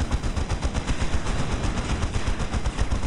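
A Chaos Havoc squad fires heavy weapons in Dawn of War during an Imperial Guard versus Chaos Space Marines match, making a dense, relentless rattle of rapid gunfire with overlapping bursts and no pause.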